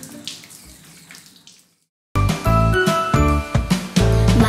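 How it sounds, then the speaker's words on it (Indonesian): Water runs from a tap for hand washing, a loud steady splashing stream that starts abruptly after a short silence, with faint tinkling earlier. "nyalakan air keran. Air mengalir, basahi tangan"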